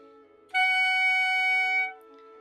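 A steady reedy tone from a clarinet mouthpiece alone, with a bright, buzzy edge, sounds for just over a second, starting abruptly and then fading away, with no talking.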